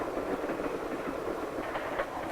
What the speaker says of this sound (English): sometimes the train goes through the mountain itself